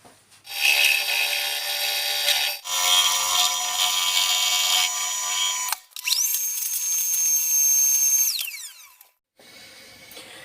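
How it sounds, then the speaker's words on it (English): A power tool grinds a couple of millimetres off the reed block of a Kawasaki AR50 two-stroke moped during a VForce reed upgrade. Loud, close, high-pitched whining in three long bursts separated by short pauses, with no speech. "just going to skim a couple of mil off here"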